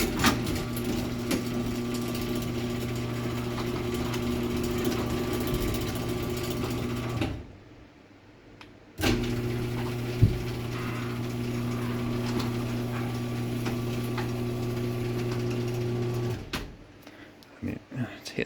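A Genie 1020C garage door opener runs with a steady mechanical hum and drone, stopping briefly partway through, then running again before it cuts off, with people talking over it.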